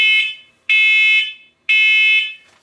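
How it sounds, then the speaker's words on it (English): A combination smoke and carbon monoxide alarm sounds three loud, shrill test beeps, each about half a second long, evenly spaced with short pauses between. "So that's the smoke alarm."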